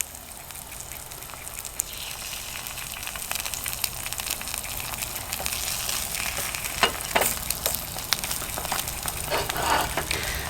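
Eggs fry in a carbon steel skillet on a camp stove, giving a steady crackling sizzle with scattered sharper pops, close and fairly quiet.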